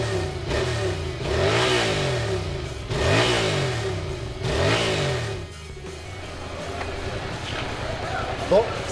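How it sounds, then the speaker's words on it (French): A Yamaha MT-07 roadster motorcycle's engine revs three times in quick succession, each rise and fall clear and close, before settling to a steady idle; the exhaust note stays fairly muted throughout. "La sonorité du pot est très discrète."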